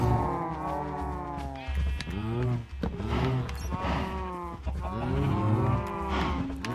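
Cows in a video game moo repeatedly in long, loud, drawn-out calls that overlap across several seconds, with no other sounds between them.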